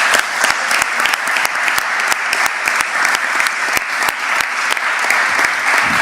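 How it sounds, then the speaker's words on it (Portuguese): A lecture-hall audience claps at the close of a student conference panel. Loud, steady applause runs throughout, with many sharp individual claps standing out. "enorme salva de palmas, por favor."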